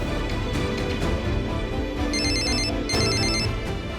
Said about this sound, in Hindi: रिंग जा रही है।